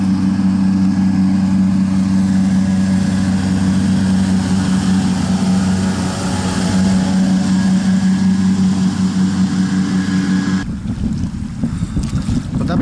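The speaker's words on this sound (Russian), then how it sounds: "И катер на подушке." An air-cushion hovercraft (hover boat) runs on the Severnaya river in Turinsky district, giving a loud, steady engine drone with a strong low hum that stays constant and close throughout, then turns rougher and more turbulent near the end.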